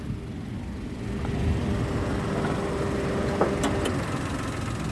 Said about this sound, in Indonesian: Agya ini mengusung mesin 1000 cc 3 silinder.